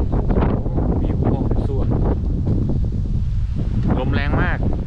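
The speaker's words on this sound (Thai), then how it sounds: "ลมแรงมาก" Strong winter wind at Huai Nam Dang National Park roars and buffets the microphone in a loud, continuous rumble while someone talks over it.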